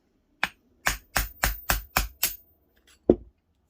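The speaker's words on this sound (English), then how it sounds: "then you take a little hammer" A little hammer taps a bearing out of a Finality skateboard hanger: seven sharp, evenly spaced metallic knocks close up, then a short pause and one softer final tap.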